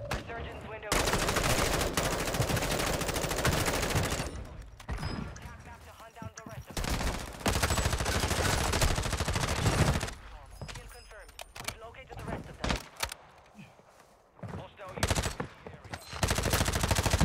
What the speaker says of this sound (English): I swear I hear people sniping over here.